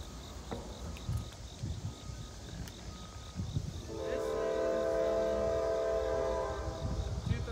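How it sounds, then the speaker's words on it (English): A train rumbles past nearby, its horn sounding in a long, loud sustained blast over the rolling noise of the cars. "Another train going by the tower here"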